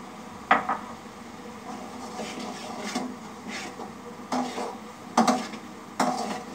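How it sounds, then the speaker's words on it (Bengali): Dried fish (shutki) and spices are stir-fried in a pan, a spatula scraping and knocking against the metal in a handful of sharp, uneven strokes over a soft, low sizzle. "আমি ভালো করে শুটকিটা কষে নিব।"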